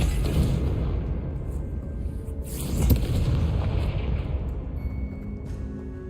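Confringo spell explosions in the Hogwarts Legacy video game: a dense, rumbling boom swells and rolls on for several seconds, with a sharper burst near the middle and a lingering low roar.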